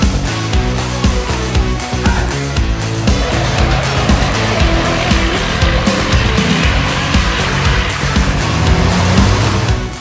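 Racing trucks roar around the Charade circuit at an FFSA truck race, loud continuous engine drone with shifting pitch and overlapping vehicles, close and dominant throughout.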